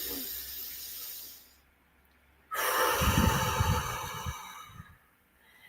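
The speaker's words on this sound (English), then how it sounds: "you're just pursing your lips a little bit. And that puts a little bit of resistance into the out breath." A person exhales slowly through pursed lips during a meditation breathing exercise, a close, long airy hiss with resistance, preceded by a softer breath and a pause.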